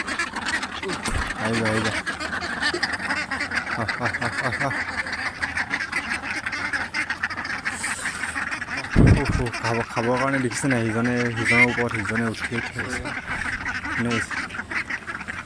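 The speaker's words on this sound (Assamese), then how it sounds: "এইবোৰে হৈছে মোৰ হাঁহ" Farm ducks kept beside a pond quack repeatedly and busily at feeding time. The calls are close and continuous, mixed with geese-like honks, while someone talks over them throughout.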